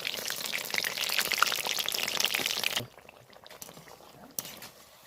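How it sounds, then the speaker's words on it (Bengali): Eggplant fritters (beguni) deep-frying in hot oil, a loud, dense bubbling sizzle that suddenly drops to a faint crackle partway through, with a few light clinks near the end. "এইভাবে আমি সব বেগুনগুলো ভেজে নেব"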